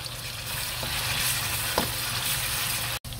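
Tomatoes and onions fry in a pan with a steady, close, loud sizzle, broken by a couple of faint stirring knocks and one brief drop-out near the end.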